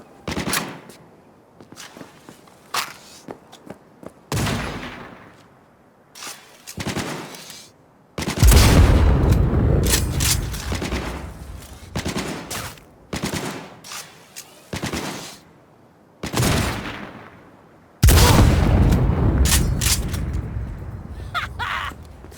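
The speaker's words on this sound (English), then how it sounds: "Watch for that turret! Open fire!" Video game combat in Cyberpunk 2077 against a turret: loud bursts of automatic gunfire and heavy, booming explosions. Rapid volleys alternate with short lulls, and two long sustained blasts stand out.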